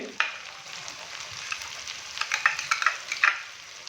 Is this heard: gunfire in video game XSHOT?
no